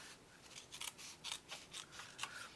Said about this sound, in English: I would cut this excess off.